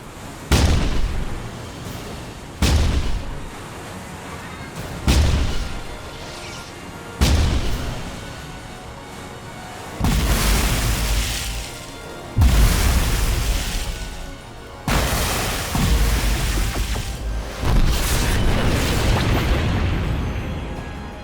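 A warship's 5-inch guns fire in an action film, a loud cannon boom roughly every two and a half seconds, each blast followed by a rumbling roll that carries into the next, with later shots heavier and more continuous.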